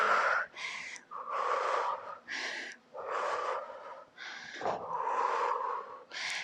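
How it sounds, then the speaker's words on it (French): A person exhales hard in repeated forceful breaths during a floor exercise while lying with back and head flat on the mat, each breath a close, breathy rush separated by brief pauses. "Vous avez le dos collé, vous avez la tête collée. Et vous soufflez."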